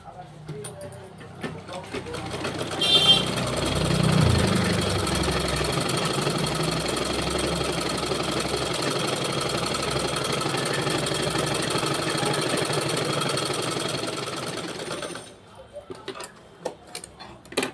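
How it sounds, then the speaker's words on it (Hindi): A sewing machine stitches around the lining of a blouse, a steady fast mechanical whir running for about twelve seconds, then stopping, with someone talking before and after. "अस्तर को पलटने के बाद इसमें हम चारों तरफ सिलाई लगाएंगे।"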